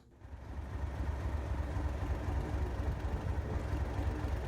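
Class 37 diesel locomotive engine in the Trainz train simulator, a low rumbling idle that rises at the start and then holds as a steady, even drone.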